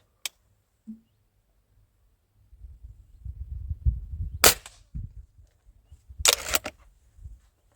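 An old pellet rifle fires with a sharp, sudden crack, followed by scattered rustling and handling noise, then a second snappy report a couple of seconds later, close and otherwise quiet.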